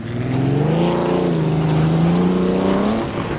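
Engine of a 1937 Grand Prix race car in the Assetto Corsa video game at Donington, a loud droning roar that swells and sags in pitch as the car accelerates out of a corner, close and continuous.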